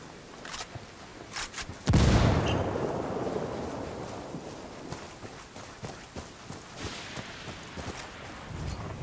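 A frag grenade explodes in the tactical shooter Ghost Recon Wildlands as one loud, sudden blast that fades into a long, rumbling tail, with faint scattered pops and wind-like noise around it.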